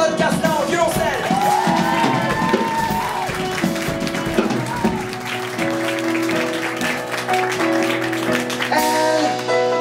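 Concert audience applauding loudly for a cellist after her introduction, a dense sustained clapping wash with some whoops and voices mixed in, while the cello and other instruments play tones underneath.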